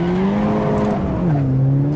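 A Golf GTI 16V engine revs hard on an uphill hill-climb course in a racing game, with a steady strained drone that slides lower as it shifts and then holds loud and continuous, with no voices over it.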